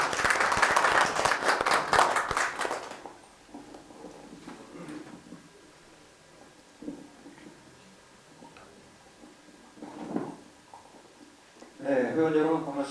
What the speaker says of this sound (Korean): 박수 좀 부탁드리겠습니다.